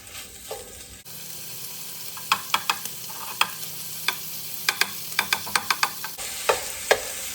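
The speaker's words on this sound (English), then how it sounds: "I'm gonna add in about a tablespoon of oil. Okay, and then I'm gonna add in the bacon" Bacon crackles as it fries in a tablespoon of oil in a pan, with steady sizzle and a run of sharp spitting pops. A spatula stirs and breaks it up for pasta carbonara.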